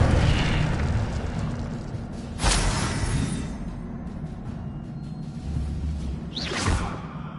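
Incendio fire spell cast in a wizard video game, a rumbling roar of flame with two sharp whooshing bursts, the second rising in pitch.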